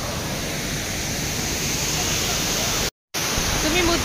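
Steady roaring rush of a waterfall in Goa's Canacona area, near the Netravali road, a dense continuous wash of water noise filling the scene with no other sounds.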